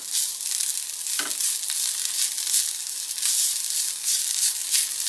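Food browns in a hot pan with a steady, bright sizzle and crackle, close and continuous, with one brief stir or scrape near the start.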